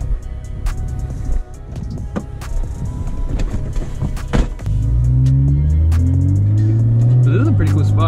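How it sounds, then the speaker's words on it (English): A car approaches on a road and drives past, its engine rising into a loud, close, steady drone in the second half, after a stretch of quieter background sounds and handling noises. "There's a car coming though, so we should probably get going."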